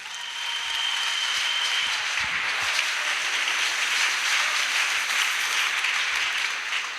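A church congregation applauds in a steady, dense wash of clapping that holds at an even level for several seconds.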